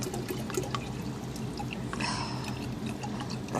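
Water poured from a gallon jug for watering plants, a steady close trickle and splash with small gurgles, swelling briefly louder partway through.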